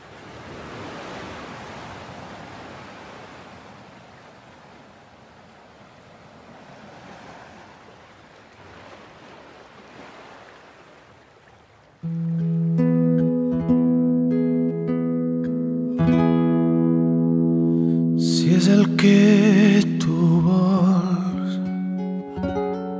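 A song adapting a piece starts about halfway through with sustained instrumental tones, after a stretch of soft, airy washing noise at the start.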